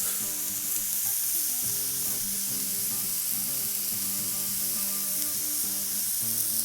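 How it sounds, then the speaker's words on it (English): A seasoned burger patty sizzling on a hot griddle as the crust forms, a steady close hiss and crackle of frying that continues without a break. "I'm just gonna let this now cook on that griddle for a few minutes just to allow that crust to form on that burger"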